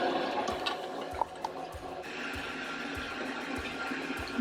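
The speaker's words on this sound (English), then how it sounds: "Can I go ahead and flush the toilet now?" An RV toilet flushes with a steady rush of water, and rhythmic low thumps repeat about every half second under the flow.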